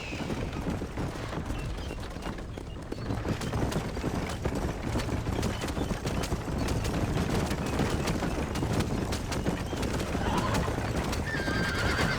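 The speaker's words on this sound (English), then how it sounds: "Get those horses moving." Horses in Red Dead Redemption whinny and neigh over a steady, continuous clip-clop of hooves, loud and close, with clattering mechanical noise mixed in throughout.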